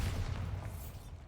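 A deep, rumbling blast from the Bombarda spell in a Harry Potter video game, set in a tomb, with low booming energy that carries through the whole short moment and slowly fades.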